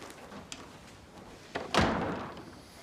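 A door swings shut with a solid thump, preceded by faint shuffling and a smaller knock, then a low lingering room rumble after the close.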